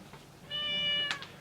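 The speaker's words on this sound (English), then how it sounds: "And you may be able to hear the cat in the background there." A domestic cat meows once indoors, a drawn-out harmonic call somewhat distant behind a quiet room tone, followed by a couple of short brighter chirps.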